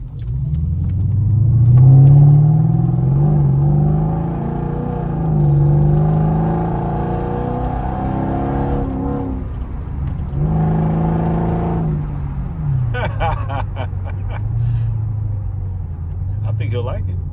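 A 2009 Mercedes SL550 R230 with a coilover conversion idles and revs with a low, steady engine rumble that swells and settles several times, close to the car, with a brief high rattle near the end.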